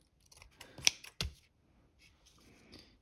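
Scissors trim cardstock for a handmade greeting card, giving two sharp close snips followed by faint paper handling, quiet throughout with no talking.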